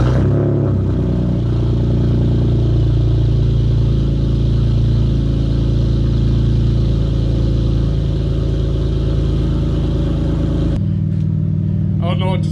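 A BMW E46 fitted with a very large exhaust idles with a steady, deep, loud drone that continues unchanged for about eleven seconds before it drops off suddenly.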